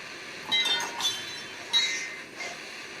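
Pieces of glass clink together in a creek, two or three close, bright knocks against a steady background of running water, with no talk.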